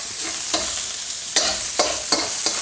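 Onion fries in a pan for pork fried rice, a bright continuous sizzle with several quick stirring scrapes close by.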